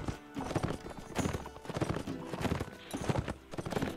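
Cavalry horses galloping in a Hundred Years War video game, with dense rhythmic hoofbeats drumming close and steady throughout, overlapping into a continuous clatter.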